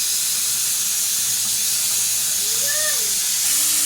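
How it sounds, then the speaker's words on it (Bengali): A pot of fish curry simmers and boils with a loud, steady hiss, with faint faint tonal chirps briefly rising in the background. "এদিকে মাছের ঝোলটা বেশ ভালো করে ফুটে গেছে"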